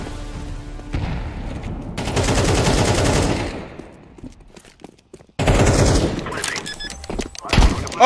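Mag-7 shotgun fire in a competitive shooter match, loud bursts of gunshots in two clusters separated by a quieter gap, with heavy thumping impacts and a sharp final blast.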